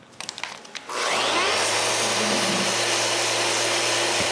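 An orbital sander smooths the flat surface of a small wooden box, starting after a few light taps and then whirring loudly and steadily with a dense abrasive hiss and a low motor hum.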